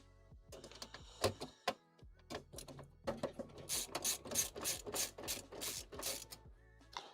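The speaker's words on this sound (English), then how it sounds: "Let's undo all these screws and get this stuff out of here." Small screws being undone inside a computer, a close run of clicking, ratcheting taps and scraping metal with rapid irregular strikes and no talking.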